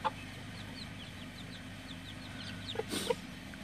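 Chickens and a rooster cluck in a steady, low-level background chatter, with a few sharper calls standing out near the start and toward the end.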